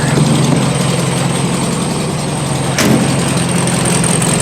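A steady engine idles continuously while warming up, a low even rumble that holds constant throughout with a brief click partway through.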